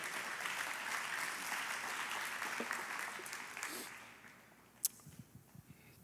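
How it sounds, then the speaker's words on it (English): A church congregation claps together during a sermon, a dense, steady wash of applause that gradually fades out, leaving a few scattered final claps near the end. "Clap your hands again."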